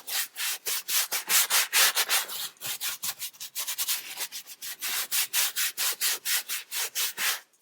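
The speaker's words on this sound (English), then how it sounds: "So scrub it really, really well and really, really quickly." Leather being scrubbed hard and fast with a foaming cleaner lather, a close, loud rub repeated in a quick, even rhythm of about two dozen strokes with no talking.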